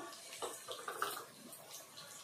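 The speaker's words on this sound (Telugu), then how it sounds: "వాటర్ వేస్తున్నానండి." Water pours steadily into a pan of spices for chicken gravy, a broadband splashing wash with a few louder gurgles, close and continuous throughout.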